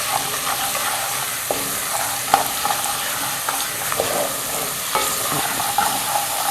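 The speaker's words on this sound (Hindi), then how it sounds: "थोड़ा सा इसको मसालों के साथ भी थोड़ा भूनते हैं।" Chickpeas frying with cumin, turmeric and other spices in a pan, giving a steady loud sizzle with scattered clicks of stirring throughout, no voices.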